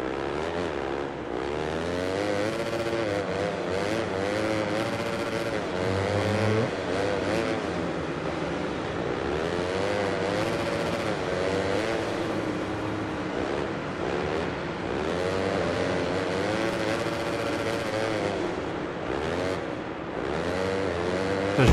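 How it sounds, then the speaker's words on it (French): Supercross motorcycle engines race continuously in Monster Energy Supercross 6, with a loud, dense drone of revving whose pitch rises and falls as the bikes accelerate and corner, without a break. "Tourne là cette moto."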